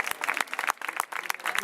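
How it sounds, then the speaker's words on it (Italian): An audience claps briefly at an Italian comedy show in Novi Ligure, with a short patter of scattered applause close by and some murmur around it. "un applauso a Dante"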